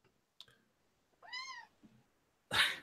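A domestic cat gives one clear, drawn-out meow up close, with a few faint clicks and small noises around it and a brief rustle at the end.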